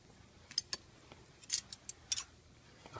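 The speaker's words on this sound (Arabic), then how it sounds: "افتح وسوف نقوم بفتح الكيس" Scissors cutting open a bag, a quiet sequence of sharp snips and clicks at irregular intervals, close and faint against near silence, with no talk.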